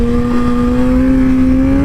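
A 2007 Yamaha R1 sportbike accelerates hard on a race track, its engine note climbing steadily in one loud, close, continuous high-revving roar.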